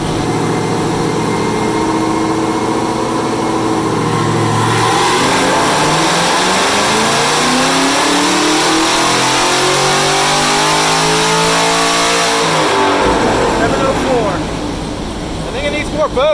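A Callaway Chevrolet Camaro ZL1 with an aftermarket package revs hard, its engine note climbing steadily through a pull before dropping back to a low idle; loud and close.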